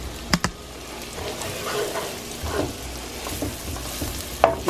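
Flour gravy with onions cooking in a pan, a soft steady sizzle with occasional sharp scrapes and clicks of a utensil stirring, close and fairly quiet.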